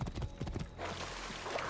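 Horse hooves clip-clopping in the video game Assassin's Creed Origins, a brief steady patter of steps for under two seconds that gives way to a continuous wash of ambient game noise, with no talk.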